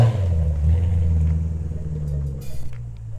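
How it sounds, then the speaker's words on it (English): A BMW M car's S54 engine idles and revs with a deep, steady rumble close by, the low growl swelling and easing over a few seconds. "S54 engine, it is literally my favorite M car engine."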